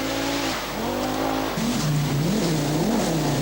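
A 1985 Audi Quattro rally car, sponsored by Clarion, drives past loudly, its engine note rising through a gear change then revving and wavering as it accelerates on the rally stage, with a steady roar and no talk.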